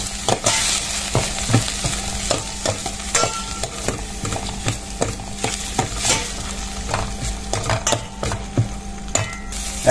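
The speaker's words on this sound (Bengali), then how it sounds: "এখন তেলের সাথে এগুলাকে ভাজি করে নিব।" Mung dal fries in oil as a spoon stirs it close up, with a constant sizzle and repeated scraping and clinking against the pan at an irregular rhythm, all in a khichuri being made with flat beans and potatoes.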